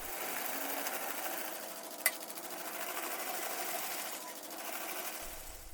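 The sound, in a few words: pineapple peeling machine with spinning blades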